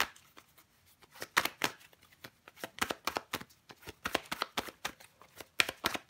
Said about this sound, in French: Allez, je recouvre des cartes.